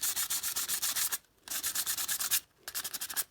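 Rapid back-and-forth strokes sanding paint on a jar rasp in quick rhythmic bursts, pausing twice briefly before resuming, close and steady.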